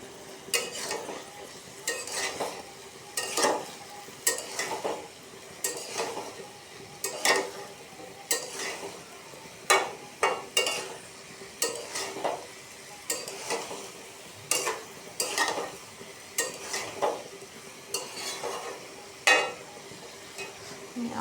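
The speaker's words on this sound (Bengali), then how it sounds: "ঢাকাটা তুলে কিছুক্ষণ নেড়ে নেব" Fish bhaji being stirred in a pan, soft sizzling under a steady series of scraping, clinking utensil strokes against the pan, repeated every second or so without talk.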